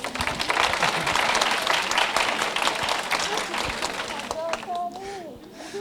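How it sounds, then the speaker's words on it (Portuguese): An audience at a debate event on vaccines breaks into loud, dense applause that gradually thins and fades, with voices and a child's chatter emerging near the end. "Palmas para a Camila, galera."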